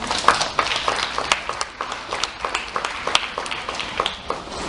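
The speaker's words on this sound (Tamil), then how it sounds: "அதுக்காக கைத்தட்டு கூட கொடுக்கலாம்" A crowd claps in a hall during a talk, brisk overlapping hand claps forming a steady patter of applause that holds at even loudness for a few seconds with no speech on top.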